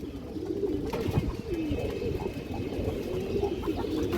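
Pigeons coo continuously at a pigeon farm, several birds overlapping in a steady, close, moderately loud murmur with soft rustling throughout.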